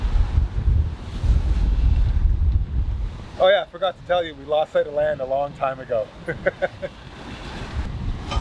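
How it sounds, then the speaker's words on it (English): Strong wind and rolling ocean waves aboard a sailboat on the open ocean, flying only a storm sail. Loud wind roars and buffets the microphone throughout while someone talks over it. "So the waves have really started to pick up now, and the wind."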